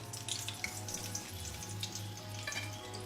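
Bitter gourd pakoda frying in hot oil, a steady soft sizzle and crackle with scattered bubbling pops, faint and continuous with no voices.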